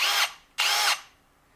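Cordless drill whirs in two short close bursts, a quick trigger pull and a longer one, each spinning up and winding down with no talk over it.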